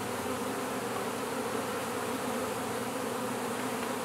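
Honeybees crowding around during the release of a queen named Flora, forming a dense, steady, fairly faint swarm hum throughout.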